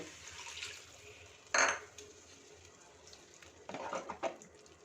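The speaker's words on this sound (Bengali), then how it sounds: "এবার আমি এর মধ্যে হাফ কাপ পরিমাণ জল দিয়ে দেব।" Half a cup of water is poured into a pot of potatoes and spices for dum aloo, with a brief metallic clink early on, then a short splashing gush of liquid near the end.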